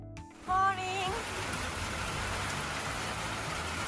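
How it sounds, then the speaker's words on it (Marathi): Steady rain falling outdoors around a rural home near Mena, Arkansas, after a night of rainfall, a continuous broadband hiss after a brief louder sound at the start, with a possible faint voice early on. "आता इथे ना मध्यरात्रीपासून पाऊस सुरू होता, अजून पाऊस सुरूच आहे."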